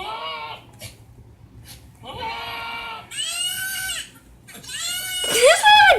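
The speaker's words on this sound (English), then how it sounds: "This is a goat." A goat bleats several times in a row, loud wavering cries with short pauses between them, the last one the loudest and harshest, with a faint voice or other farm animal noise in the background.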